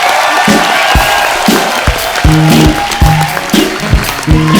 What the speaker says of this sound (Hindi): मंच पे आ जाइए, जोरदार तालियों से एक बार स्वागत हो जाए।